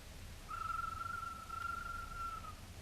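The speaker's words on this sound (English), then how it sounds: "That's his whistle." A single steady, pure whistle holds one pitch for about two seconds, thin and fairly distant, against a quiet background.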